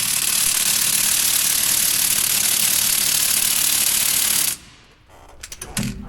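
A power tool tightens nuts on a John Deere H tractor, a loud, steady whirring hammer lasting several seconds before it cuts off, followed by a few metallic clunks and rattles nearby.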